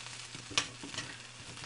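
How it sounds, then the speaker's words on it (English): Broccoli, carrots and green beans frying in a pan, a steady soft sizzle with a few crackling pops and stirring scrapes, fairly quiet and close with no voices. "So just threw that in there. And I'm going to fry that up."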